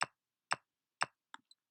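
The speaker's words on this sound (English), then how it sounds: "now that little high-pitched click, that's your metronome." Metronome in Soundtrap, three crisp evenly spaced clicks about half a second apart, followed by two fainter, softer ticks, close and isolated against silence.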